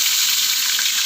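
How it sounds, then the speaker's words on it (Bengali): Five-spice and chopped onion fry in hot oil, likely the same oil used earlier to fry fish, giving a steady, loud, close sizzle with no talking. "দিয়ে দিলাম 5 ফোড়ন, পেঁয়াজ কুচি"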